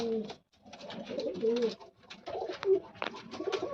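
Loft pigeons, a Guldar male and a Dubas female, coo softly and repeatedly close by, with low throaty rolling calls in a continuous murmur and no talk.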